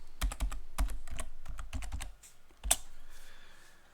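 Close, crisp keyboard typing as a password is entered on a computer, a quick irregular run of clicky keystrokes ending in one firm final press, with no talk.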